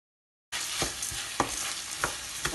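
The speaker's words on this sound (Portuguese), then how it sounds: "vou torrar esse arroz aqui por uns 3 minutos, junto com tudo" Rice toasting in a pan with seared pork loin and chopped onion, a bright steady sizzle starting abruptly after a short silence, punctuated by several scraping stirs of a utensil, close and without talk.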